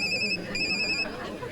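An electronic telephone ring sounds in two steady bursts as a call comes in, partly under a soft background murmur.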